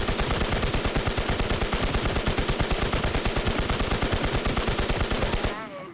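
Rapid sustained automatic gunfire in the Infestation SEA video game, a loud steady stream of shots hammering without pause for several seconds before cutting off abruptly.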